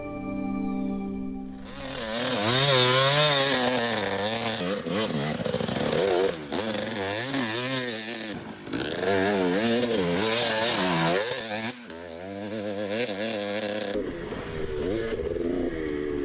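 A dirt bike roars around a sand track close by, its engine revving and dropping repeatedly through corners, loud and continuous with brief throttle cuts.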